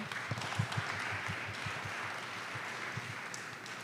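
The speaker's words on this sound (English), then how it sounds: "I'm getting these applause" Steady applause from an event audience fills the space, a dense continuous wash of clapping with scattered sharper claps and no clear speech on top.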